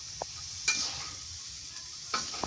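Broad bean seeds sizzling in a kadai while being stirred, a steady close frying hiss with a few sharp scraping clinks of the spoon against the pan.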